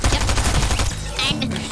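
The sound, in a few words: shotgun fire in the video game Fortnite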